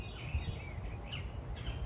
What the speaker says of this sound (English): Okay, I hear that woodpecker still.